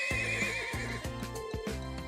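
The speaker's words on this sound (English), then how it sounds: "I'm on a horse now, time to ride." A horse in the Trails of Cold Steel video game lets out a loud, close neigh over rhythmic hoof clip-clops, all heard alone without talk.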